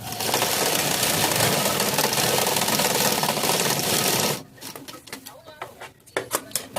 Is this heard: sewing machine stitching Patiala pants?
yes